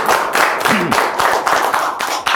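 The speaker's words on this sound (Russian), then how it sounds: "Аплодисменты команде" A studio audience at a comedy battle show applauds the team, dense sustained clapping filling the whole moment, loud and close with a brief vocal sound mixed in.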